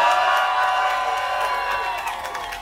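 Rap battle audience at a French battle event cheering, whooping and shouting loudly together, a sustained dense crowd roar that fades slightly toward the end.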